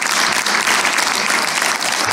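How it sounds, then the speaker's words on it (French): Audience at a literary poetry evening applauding steadily and fairly loudly for a performer, a dense sustained round of clapping with no pauses. "Et on applaudit Jamel Fedar."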